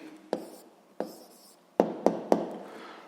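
Pen or pencil on paper while an answer is written out by hand in a physics lesson, giving a few sharp taps and short scratchy strokes close up in an otherwise quiet room, with no talk.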